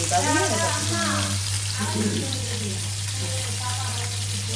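Small puti fish fry in a pan, making a steady, close sizzle with a watery hiss, while a voice speaks over it at the start and a low electrical hum runs throughout.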